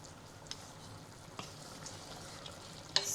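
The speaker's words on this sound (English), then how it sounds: "I will start the frying process" Pork chunks for Haitian griot frying in a pan, a quiet, steady sizzle with a few small pops and crackles, alone without talk.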